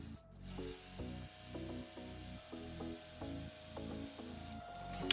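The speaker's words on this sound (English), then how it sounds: "break out the bane of my existence, the dreaded jigsaw, to cut out some toe kicks" A jigsaw cuts oak toe kicks in a woodworking shop, its blade rasping in a fast, regular buzzing rhythm at close range.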